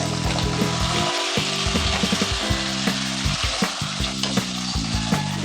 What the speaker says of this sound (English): Carefully I will add this potato and then I will fry it.